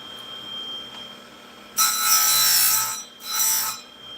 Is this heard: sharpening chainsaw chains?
yes